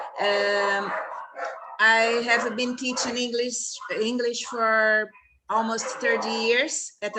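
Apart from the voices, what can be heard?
dogs barking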